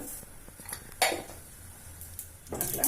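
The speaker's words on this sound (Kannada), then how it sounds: "ಈಗ ಎಣ್ಣೆ ಕಾದಿದೆ ಸಾಸಿವೆ ಹಾಕ್ತೀನಿ ಫಸ್ಟ್" Mustard seeds dropping into hot oil in a pan while cooking pongal, heard as scattered metallic clinks and taps of a pan and utensil with faint sizzling underneath, close and moderately loud.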